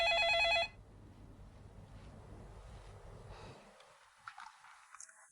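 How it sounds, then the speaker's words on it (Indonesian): A telephone rings loudly for under a second, then cuts off, leaving soft, windy room noise and a few faint knocks. "Oke, jawab telepon."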